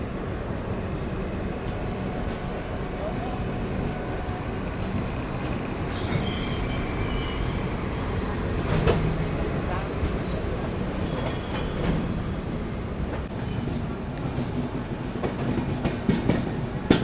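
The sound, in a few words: Garib Rath Express LHB train running after departure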